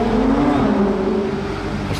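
A sports car engine, loud and close, holds a steady rumbling note that rises slightly then settles, heard alone without talk.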